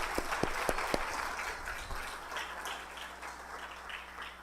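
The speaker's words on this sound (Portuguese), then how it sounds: "Vamos aplaudir o Luquinha ali, queridos, glória a Deus" A church congregation applauds Luquinha with a steady wash of clapping that opens with a few sharp, distinct claps and then settles into dense, even applause, fading slightly toward the end.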